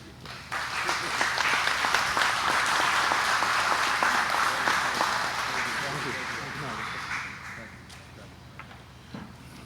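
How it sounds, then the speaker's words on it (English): An audience at a utility takeover signing ceremony breaks into sustained applause that swells for several seconds and then gradually tapers off, with a few voices underneath. "ask you a round of applause"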